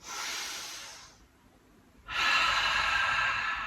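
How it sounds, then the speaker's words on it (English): Deep breath in a yoga flow: a long airy inhale, a short quiet pause, then a louder, fuller rushing exhale, close and clear with no talking. "Let's take a big breath here"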